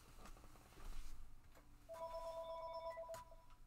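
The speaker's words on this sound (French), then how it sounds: "je vais répondre au téléphone" A telephone ringing indoors, a bright electronic tone that starts partway through and holds steadily, with faint shuffling and thumps before it.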